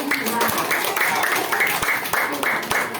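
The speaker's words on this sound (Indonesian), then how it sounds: "tepuk tangan dulu untuk kelompok 2" Students in a classroom clapping for a student group after its turn, a few rhythmic, patterned claps repeating at a steady beat alongside the room's chatter.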